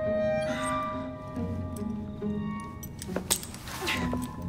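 Keys jangle in Assassin's Creed Syndicate, a few light metallic clinks and a short rattle heard under a droning game soundtrack, close and fairly faint.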